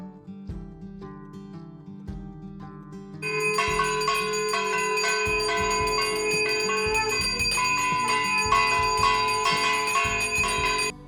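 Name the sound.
conch shell and bells during evening aarti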